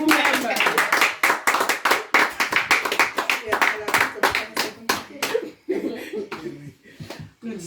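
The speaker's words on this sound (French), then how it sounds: "Applaudissez pour vous-même." Applause from the audience at a women's conference, made of close, sharp individual claps in a brisk, uneven rhythm, with light laughter mixed in and a few claps trailing off at the end.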